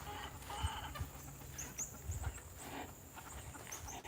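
Backyard chickens, some losing feathers, clucking and murmuring softly in short bursts, fairly distant and quiet over a hissy outdoor background.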